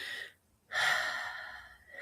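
A single slow, deliberate breath, an airy inhale swelling after a brief silence and easing off, close and soft with no talking.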